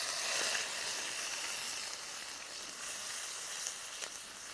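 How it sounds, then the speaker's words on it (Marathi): A steady, bright sizzle of chillies frying in hot oil, continuous and close, with faint crackles and no talk. "तेल गरम झाले मिरच्या टाकून देऊ"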